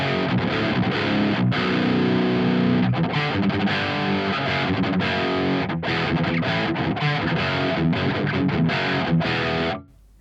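Heavily distorted electric guitar playing through an ENGL E530 preamp into a Peavey 6505 power amp, a loud, dense riffing passage with sustained chords and chugs that stops abruptly near the end.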